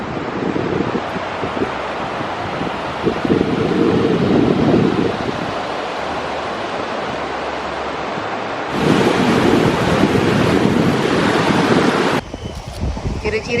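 Ocean waves roll onto a beach in a steady broadband roar, with wind buffeting the microphone and surges growing louder at times.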